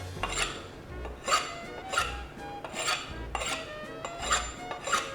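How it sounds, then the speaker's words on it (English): A kitchen knife scrapes across the rough unglazed bottom of a ceramic bowl in about six evenly spaced, gritty rasping strokes, close and fairly quiet, with no voices. "So very quickly I'll show you how to sharpen the knife."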